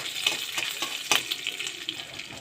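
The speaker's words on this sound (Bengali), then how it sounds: "এবার দেখো তেলের মধ্যে আমি কিছু গোটা ধনে দিয়ে দিচ্ছি" Whole coriander seeds dropped into a little hot oil in a pan sizzle steadily, with a few sharper crackles and pops over a continuous frying hiss, close and fairly loud.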